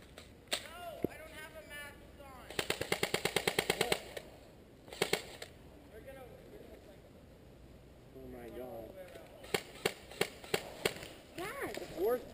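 Airsoft guns fire in rapid, loud bursts of sharp clicking shots during an airsoft game, with several separate volleys spaced across the scene and voices talking between them.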